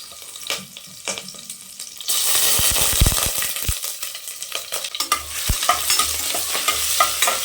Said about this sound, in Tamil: எண்ணெய் சேர்த்துக்கலாம் குக்கர் வச்சுருக்கேன் கடுகு உளுத்த பருப்பு சேர்த்துக்கலாம் ரெண்டே ரெண்டு பச்சை மிளகா கருவேப்பிலை சேர்த்துக்கலாம்